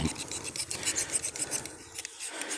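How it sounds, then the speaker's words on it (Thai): Steady rasping scrape of a blade stripping bark from a guava branch being prepared for air layering, close and continuous for a couple of seconds with no talk. "ก็เลยต้องขูดหน่อย"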